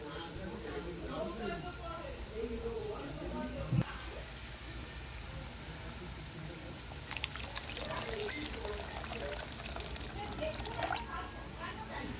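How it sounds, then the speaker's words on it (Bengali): Water is poured into a spiced fish curry cooking in oil, making a soft, continuous trickle and splash that stays faint beneath a voice talking, with a few light clinks of utensils. "এবার দিয়ে দেব জল।"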